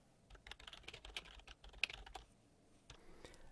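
Quiet typing on a computer keyboard: a quick, uneven run of soft key clicks over a few seconds, close but faint, with no talking.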